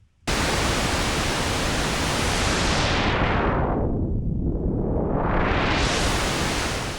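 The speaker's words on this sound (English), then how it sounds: "Let's add some resonance to this filter." A continuous roar of pink noise from a Softube Model 72 synthesizer is swept down and back up by a resonant filter, taking on a faint ringing, whistling edge as it narrows.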